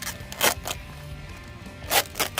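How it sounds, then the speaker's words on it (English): A plastic package of chicken leg quarters peels open from a corner tab with two quick ripping bursts, close and crisp, and a quieter crinkle runs between them. "So it's got this tab here on the corner, and you just peel away, just like that."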